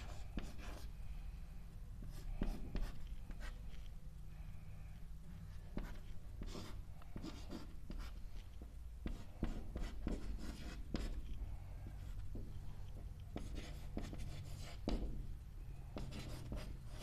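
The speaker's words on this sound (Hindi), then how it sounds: "चलो इधर लिखता हूं, इसके बाद इधर" Chalk or marker writing on a board during a Class 10 science lesson, with a steady run of short scratchy strokes and taps, close and alone, with no talk over it.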